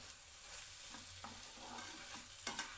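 Chopped coriander is stirred into spicy baingan bharta in a pan, with a faint, continuous sizzle and soft spatula strokes scraping through the mash, ending in a couple of sharper clinks.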